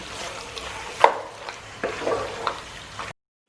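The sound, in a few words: stirring cream into a dish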